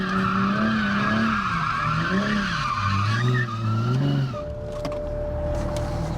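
A Mercedes-AMG car drifts close by, tires squealing loudly in long wavering tones while the engine revs rise and fall, then the skid cuts off into a rough idle with a steady whine.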